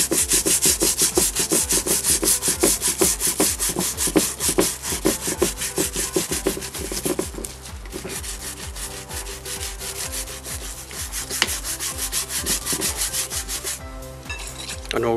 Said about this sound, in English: The scrubbing brush, scrub it in.